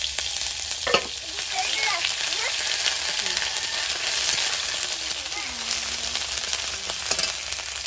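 Ginger-garlic paste fries in hot oil with whole cumin, whole garam masala and bay leaves, making a loud, continuous, hissing sizzle with a few sharp pops and light stirring scrapes.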